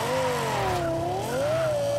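Lexus RC F engine from the racing game Forza Horizon 4, a steady loud tone that rises, dips and climbs again in pitch as revs shift, continuous with no talk.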